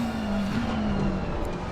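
Onboard engine of a McLaren GT car in a sim racing game at Silverstone: a steady, droning engine hum at a constant pitch, held at moderate loudness throughout with no gear changes.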